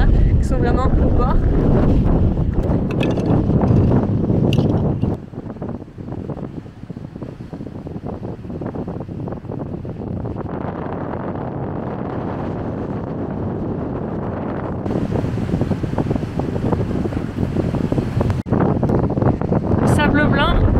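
Strong wind whipping across the white-sand beach at Miami Beach: a loud, constant roaring rush buffeting the microphone, rising and falling slightly, with a person talking over it at the start and end.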